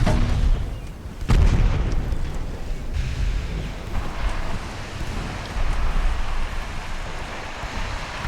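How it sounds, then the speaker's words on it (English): A torpedo hit explosion in the naval game Ultimate Admiral Dreadnoughts: one heavy boom lands early, then fades into a long rumbling wash of sea spray and water noise, loud and without speech. "That torpedo over there, there's a torpedo hit."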